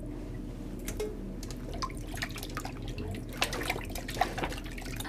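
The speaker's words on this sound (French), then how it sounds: "On va rincer, toujours avec de l'eau froide." Cold running water rinsing meat in a bowl, a continuous close splashing and trickling with scattered drips and small clunks, no talking.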